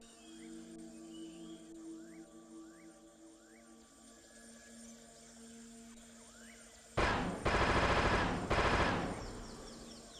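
A short burst of video game gunfire breaks in loudly near the end, two or three rapid volleys, after a long stretch of quiet ambient game sound with faint chirping tones.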